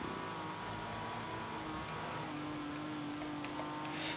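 The race car's engine in the video game Grid Autosport, on a narrow street circuit, drones continuously at a fairly quiet level with a sustained tonal hum.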